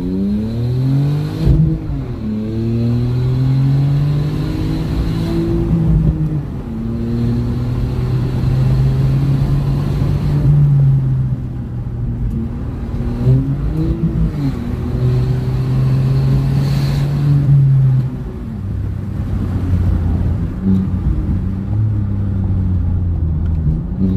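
Hyundai HB20 1.0 turbo with a stainless steel exhaust accelerating through the gears, engine rumble rising and falling in repeated pulls with gear changes, close and steady throughout.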